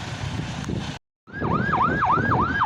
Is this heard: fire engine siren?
yes